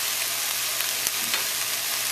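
Salted cod stir fry with soy sauce and chopped cabbage just added to the pan, a dense, close, continuous sizzle with a few soft stirring scrapes.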